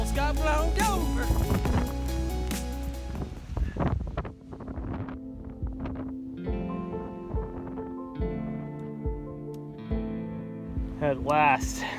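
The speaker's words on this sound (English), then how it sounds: "It's a little windy." Strong wind gusts buffet the microphone on a wilderness stretch of the Appalachian Trail in Maine, a steady low roar running under a speaking voice with scattered footsteps and rustle.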